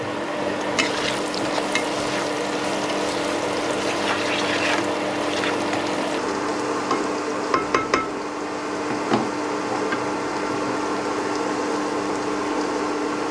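Rice cooking in a pan with dried chillies, a continuous sizzle and bubbling simmer with occasional scrapes and clinks of a stirring utensil, close and steady throughout.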